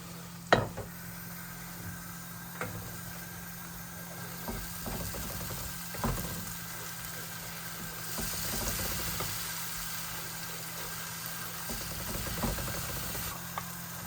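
Masala with tomato puree sautéing in a pan for basa fish fillet curry, a steady soft sizzle with occasional stirring scrapes and light clinks throughout, close and moderately quiet.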